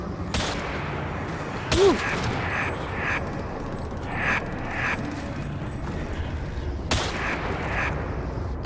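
Rapid Death Machine minigun fire from Black Ops 3 on a Halloween custom zombies map, a dense continuous rattle with a few louder bursts standing out, heard over game noise while a man briefly exclaims.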